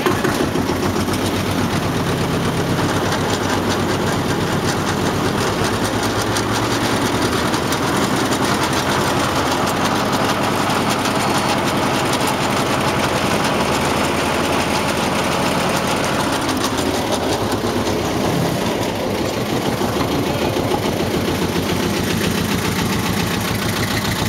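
A Belarus 300 diesel tractor runs steadily with the PTO engaged, a loud continuous chugging drone with a rhythmic knock, close and alone, shifting slightly in tone partway through.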